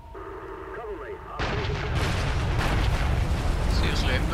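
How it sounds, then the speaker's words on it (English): 100-pound bombs dropped from a B-25 Mitchell in War Thunder explode after a droning engine, giving way to a sustained rumbling roar of blasts that stays loud to the end. "Seriously, those 100-pound bombs are like firecrackers."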